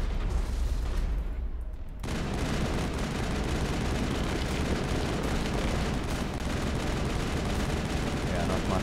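Assault rifle gunfire in the Mass Effect video game rattles as a dense, continuous stream after a brief quieter gap at the start, loud and sustained.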